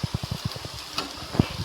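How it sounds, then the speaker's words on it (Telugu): Tomato pieces with rock salt frying in a pan give a soft sizzle, with several rhythmic stirring scrapes and one louder clack near the end. "ఇప్పుడు టమోటా ముక్కలను యాడ్ చేసుకొని అందులో రాక్ సాల్ట్ కొద్దిగా సరిపోయేంత వేసుకొని ఫ్రై చేసుకోవాలి."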